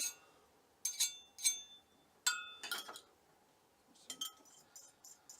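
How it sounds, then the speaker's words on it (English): Metal spatula tapped and scraped against a pan or bowl to knock off omelette bits of hemp seed, ham and turkey, giving a handful of sharp clinks in short bursts, fairly quiet, with no talking. "I want to get all these goodies off the spatula."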